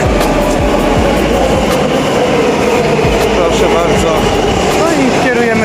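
A loud Warsaw Metro M1 train rumbles and roars throughout, with rising whine and rail clatter close by.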